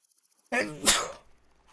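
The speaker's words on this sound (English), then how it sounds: "Gotta sneeze." A single close human sneeze, sudden and sharp, with a short gasping intake leading into the burst.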